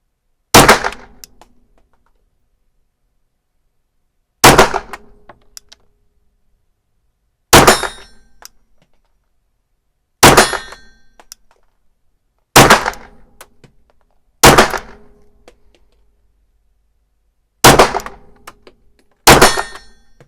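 Glock 34 pistol fired slowly on a range, eight sharp loud shots spaced irregularly a few seconds apart, each with a short ringing decay and no talk.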